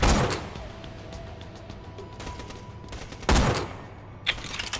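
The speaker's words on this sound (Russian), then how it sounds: "Кто еще стреляет?" Bursts of gunfire in the video game Borderlands: The Pre-Sequel, rapid rattling volleys separated by quieter moments, with several loud blasts close up.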